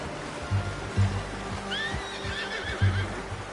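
A horse in Red Dead Redemption 2 gives a high, wavering whinny over a few low snorts and thudding hoofbeats, close by, with faint ambient water sound behind.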